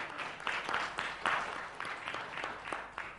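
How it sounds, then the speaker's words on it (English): Scattered clapping from a modest panel discussion audience, steady and moderately loud, with no voices over it. "Thank you so much for encouraging us with that applause."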